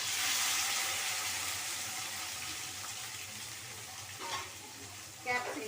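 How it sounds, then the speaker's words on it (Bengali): Fried potato balls sizzle in hot oil after being dropped in, a steady, dense hiss that starts strong and eases slightly, with faint voice sounds near the end. "এবার যেভাবে চিলি চিকেন তৈরি হয়, আমি প্রথমে এই যে এগুলোকে তেলের মধ্যে ছেড়ে দিলাম"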